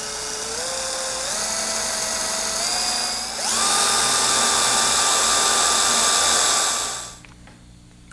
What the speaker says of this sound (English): I'm gonna put me a couple little pilot holes in here so I don't blow that wood out